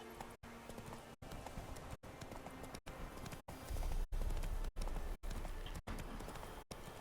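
Roach, Geralt's horse in The Witcher 3, gallops steadily with rhythmic hoof clip-clops over a continuous bed of ambient game noise, close and fairly even in loudness, with no talk.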